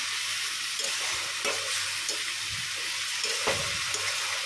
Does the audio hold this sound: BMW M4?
no